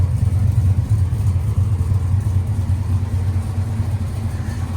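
Restored 1970 Chevrolet C10 step side hot rod with a V8, two-barrel carburetor, roller rockers and finned aluminum valve covers, running close by in a loud, steady, deep rumble with no talk.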